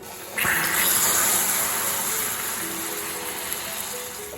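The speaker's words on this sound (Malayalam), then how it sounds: "ഇനി അതിലേക്ക് ഞാൻ ഒരു അരക്കപ്പ് വെള്ളമാണ് ഒഴിക്കുന്നത്" Half a cup of hot water is poured into a hot pan for a pudding, setting off a sudden loud gushing hiss that stays strong, then eases into a steady bubbling sizzle, close and alone.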